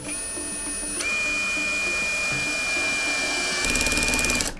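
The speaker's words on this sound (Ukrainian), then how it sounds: "перевіримо, як працює муфта, чи е, зможе на першому режимі закрутити самі найменші е, мебельні саморізи" A Grand DA 20-2 BL cordless screwdriver whines at high pitch while driving small furniture screws, steady and close, ending in a rapid ratcheting clutch clatter.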